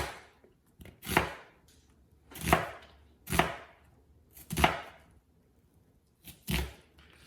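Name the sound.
knife slicing an onion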